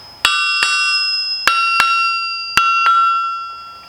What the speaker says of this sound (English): I've tapped around on the weld itself, cannot get it to deform, and the anvil itself